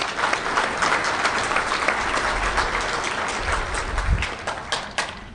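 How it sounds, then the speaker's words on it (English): Conference audience at a hacker convention session applauding together, a dense steady wash of many hands clapping throughout, fairly loud and sustained, with a slight swell near the end. "So if we could just like clap for Artem right now,"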